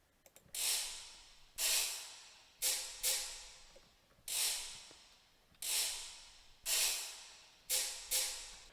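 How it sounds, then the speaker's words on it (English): A rasping wooden ratchet noisemaker cranked in about eight short, harsh bursts, each flaring up loudly and fading, spaced unevenly. "in this track, I really highlighted the use of the ratchet"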